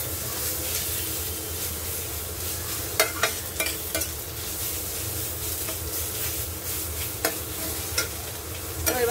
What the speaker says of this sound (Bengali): ভালো করে মশলাটা কষতে হবে।